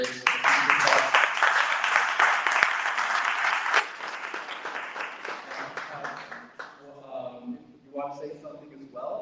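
A full round of applause from a tech meetup audience, loud and dense at first and then tapering off, before a voice starts talking over the last scattered claps.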